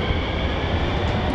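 A train passes in Kobe with a loud, steady low rumble and rolling rail noise, close and continuous with no talking.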